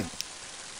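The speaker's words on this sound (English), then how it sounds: "Mighty heavy rain, isn't it?" Heavy rain in the video game Mother 3, a steady dense hiss of downpour filling the short clip, with a brief small tap near the start.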